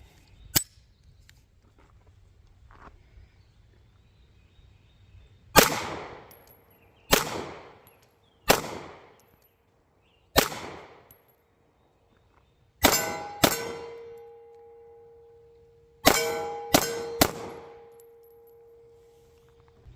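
A Girsan MC P35 Hi-Power clone pistol fires in sharp, fairly distant shots, some paired, with metallic clangs and ringing from steel targets. A quiet pause separates the first shot from the later string of hits.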